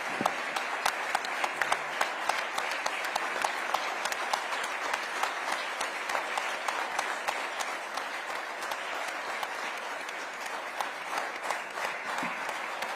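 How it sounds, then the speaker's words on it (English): Dense, sustained applause from a large audience at a live awards ceremony, a steady roar of many hands clapping close and loud throughout with no talk. "we need to have a standing ovation"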